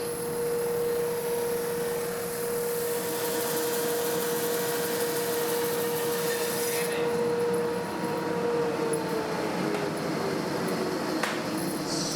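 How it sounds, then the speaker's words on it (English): A bandsaw blade cuts through wood in a workshop, a steady loud whining grind running throughout with a sustained tonal hum that shifts slightly near the end. "Now let's get back and see if we can get this bandsaw blade cutting nicely again."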